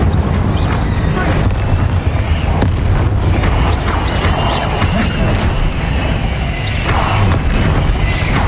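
Incendio fire spell cast in Hogwarts Legacy, a loud, dense rush of crackling flame and rumbling booms with creaks and whooshes, sustained throughout over heavy game noise.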